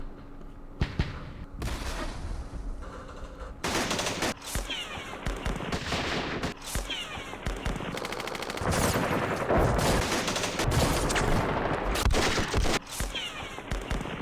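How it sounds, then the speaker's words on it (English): Mortar bombardment in the Vietnam war game Campaign Series Vietnam, at Dien Bien Phu: bursts of gunfire-like explosions and impacts, repeated throughout and mostly dense and loud, with no voices. "Let's utilize our mortars. Start pounding this."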